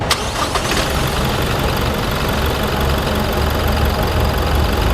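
A Toyota Hilux Revo 2.4 diesel engine is heard. A brief start at the very beginning settles into a steady, loud, rough idle that continues for several seconds.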